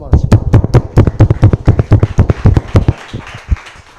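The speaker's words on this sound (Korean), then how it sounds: "우리 서로에게 격려의 박수 한번 하시죠." A church congregation at a Sunday service claps in encouragement, loud, sharp claps in a quick, steady rhythm that break off abruptly, leaving a few scattered claps.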